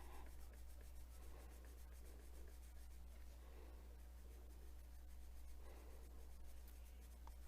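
Colored pencil pressed hard on paper, a soft repeated scratchy rubbing in back-and-forth strokes, quiet and close with no talking.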